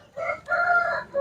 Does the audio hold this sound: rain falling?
no